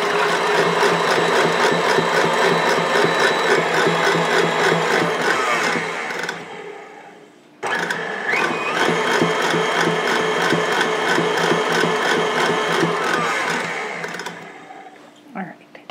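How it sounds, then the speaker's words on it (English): Electric mixer whipping heavy cream toward soft peaks for strawberry mousse, a steady loud whirring motor drone that runs continuously, cuts out briefly, then resumes before winding down. "we're gonna beat it up in the mixer until it forms not stiff peaks, but soft peaks"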